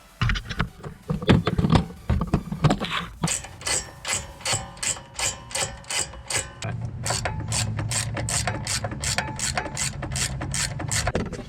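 Rapid ratcheting clicks from a torque wrench tightening front brake caliper bolts on a 2017 Mustang GT with four-piston brakes, close and loud, in two bursts of regular pawl clicks with a steady mechanical hum beneath the second.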